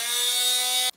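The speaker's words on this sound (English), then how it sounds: "It does well handling smaller power tools like a multi-tool" Oscillating multi-tool powered by a Jackery Explorer 290 power station gives a loud, steady high-pitched buzz with a fixed pitch, then cuts off abruptly near the end.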